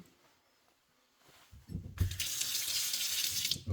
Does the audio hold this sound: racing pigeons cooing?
no